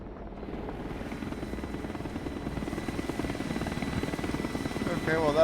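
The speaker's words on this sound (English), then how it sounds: "that's a helicopter that appears to have a pair of magical floating gun pods" A helicopter flies in the military strategy video game Broken Arrow. Its steady, throbbing rotor drone runs throughout and grows slightly louder toward the end.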